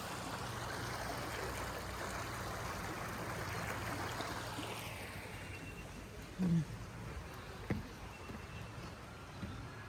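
A river in Glenalta park flows with a steady, faint rushing wash of water throughout, a couple of brief knocks near the end, and no talking.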